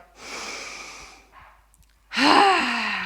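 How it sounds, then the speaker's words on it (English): A deep breath during a yoga session: a long, airy inhale, a pause, then a fuller, louder exhale with a slight voiced sigh, close to the mic. "One more deep breath as you are."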